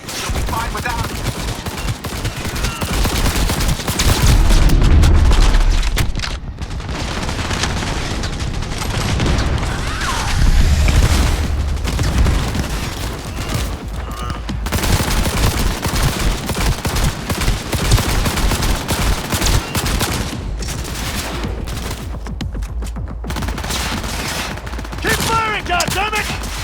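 Heavy gunfire raking a building during a battle in Cyberpunk 2077, dense sustained bursts with booming impacts, loud and continuous throughout.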